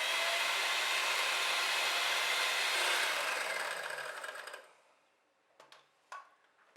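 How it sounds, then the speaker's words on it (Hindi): Egg and granulated sugar are whipped together in a pan for Swiss roll batter, a steady loud whirring that runs for about four seconds, then fades out, followed by a couple of brief clinks. "पैन में डालेंगे 1 अंडा, 1 टेबल स्पून दानेदार चीनी। इन दोनों चीज़ों को अच्छी तरह से बीट करेंगे।"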